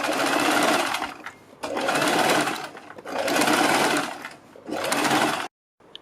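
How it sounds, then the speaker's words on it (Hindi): Sewing machine stitching around a kurti neckline alongside buckram, running in four long bursts separated by brief pauses, loud and close with no talk. "गले के ऊपर सिलाई लगाएंगे।"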